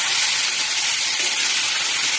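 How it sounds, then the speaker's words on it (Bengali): Masala with papaya frying hard in a pan for an egg and potato curry, a loud continuous sizzle and hiss holding steady throughout. "এই পেঁপেটা দিয়েও মশলাটাকে একটু ভালো করে কষিয়ে নেব।"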